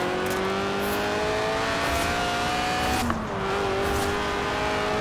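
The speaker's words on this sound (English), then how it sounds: "The honourable art of drifting." Engine of a drifting car in Forza Horizon 4, a steady loud racing-game drone with a brief pitch drop mid-way as the car slides, continuing without talk.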